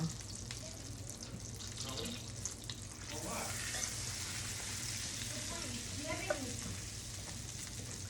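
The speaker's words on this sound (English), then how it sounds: "So I just lay them in my pan and in a medium-high heat." Chicken pieces frying in butter and olive oil in a pan over medium-high heat, giving a steady close sizzle throughout with light clinks and stirring noises on top.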